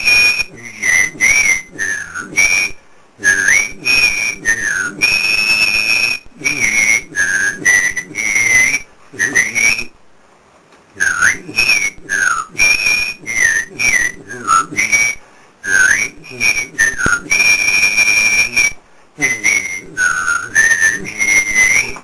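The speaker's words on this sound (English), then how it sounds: "Whistling through a fan" Whistling through a fan to a TV show theme tune, a loud, steady melody of rapid, fluttering notes in continuous phrases with brief pauses between them, heard alone without talk.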